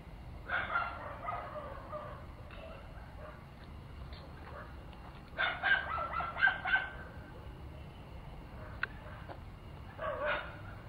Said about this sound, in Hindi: किसी को देख रहे हैं और वो इंसान नहीं है जिसको देख के भौंक रहे हैं।